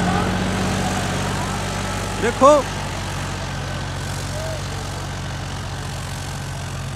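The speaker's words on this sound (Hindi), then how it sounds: "देखो जॉन डियर 5210, जॉन डियर भाई चल रहा है" A new John Deere 5210 tractor engine runs at a steady, low diesel rumble throughout, close by, with someone speaking briefly over it.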